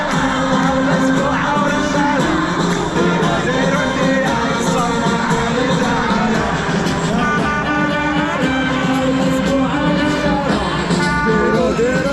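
A football crowd at a Morocco versus Brazil match in Tangier claps and cheers loudly as a player comes on, a thick, continuous roar with shouts and rhythmic clapping and music mixed in.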